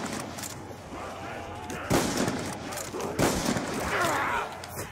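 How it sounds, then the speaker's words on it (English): Bombs blast in a zombies video game, a steady roar of gunfire-like noise with two heavier bursts standing out partway through, loud and continuous. "Who's dropping bombs?"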